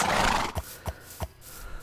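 Horses in the Minecraft video game neighing, a breathy whinny followed by three short snorting bursts evenly spaced, close and clear with no talk.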